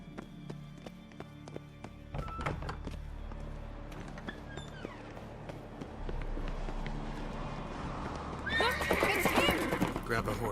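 A horse in the video game The Witcher 3 whinnies and its hooves clip-clop, breaking into a gallop that grows louder toward the end, with game voices and effects mixed in.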